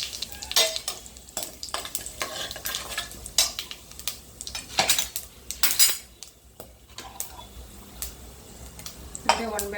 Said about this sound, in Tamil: சோம்பு, பிரியாணி இலை இதெல்லாம் போட்டு பொரிய விட்டுடலாம்.